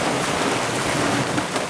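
Heavy rain pours down steadily during a solo canoe trip in the wilderness, a dense, even roar of water with no pauses, close and loud throughout.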